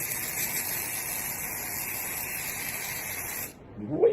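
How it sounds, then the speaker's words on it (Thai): Cosmic hair removal mousse sprayed from an aerosol can, a steady close hiss lasting about three and a half seconds before cutting off abruptly. "ขั้นตอนแรกของนางให้เขย่าก่อน แล้วก็ฉีดเลย"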